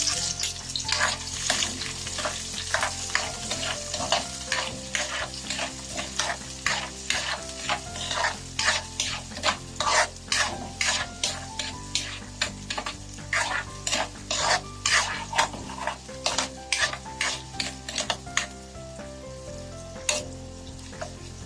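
Garlic and onion sauté together in a pan with a steady oily sizzle, overlaid by continuous rhythmic scraping and tapping of a spatula against the pan, close and busy, with no talking.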